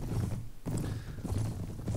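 Cavalry horses' hooves clatter in Mount & Blade combat, a steady dense clip-clop of several mounts running close together, loud and continuous with no talk.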